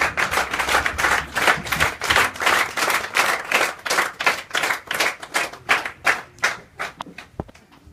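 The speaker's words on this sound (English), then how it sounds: "I would invite the interns and the novices to clap for the guests that have so far arrived." Interns and novices clap for arriving guests at a leadership awards event, a brisk, fairly loud patter of separate hand claps that keeps an uneven rhythm, then thins out to a few scattered claps near the end.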